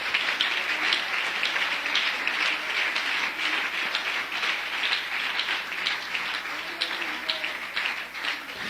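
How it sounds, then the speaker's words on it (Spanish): Church congregation applauding for Jesus during a service, a steady, dense patter of clapping from many hands that sounds almost like rain, continuing evenly throughout at moderate volume. "Dele un aplauso al Señor Jesús"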